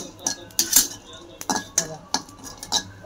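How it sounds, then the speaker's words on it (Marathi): Coconut roasts in a pan over medium heat while a spatula scrapes and clinks against the metal in quick, uneven strokes, close and fairly crisp, with faint background noise between them. "आपण खोबरं जरा मध्यम आचेवर भाजून घेऊ"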